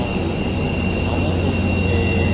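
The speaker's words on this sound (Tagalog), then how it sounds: "at pasakay na nga po kami ngayon ng aeroplano" An airplane engine roars steadily and loudly close by while passengers board a flight, a continuous broadband whine and rumble with no breaks.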